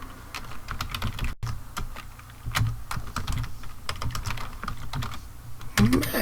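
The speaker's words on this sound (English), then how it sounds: "I'm a horrible typer." Rapid keystrokes on a computer keyboard during a coding session, steady irregular clacking throughout with a few louder hits, close and clear, no talking.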